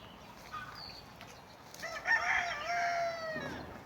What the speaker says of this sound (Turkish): Horozların tavukların sesleriyle bir video oldu.